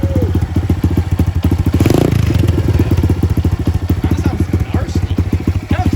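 Aftermarket 125cc engine swapped into a Honda CT90 runs loud and close with a steady rapid thumping exhaust pulse and a brief rev swell, with no voices.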